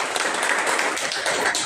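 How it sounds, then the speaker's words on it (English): Audience at a Bagalkot University program applauding. Brief, steady clapping from a crowd fills the room throughout. "I would ask you to give a big round of applause to Jadan sir"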